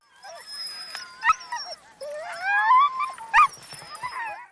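Sled dogs in Greenland yelping, whining and howling together in rising, wavering cries, several animals calling close by with sharp yips between the longer howls.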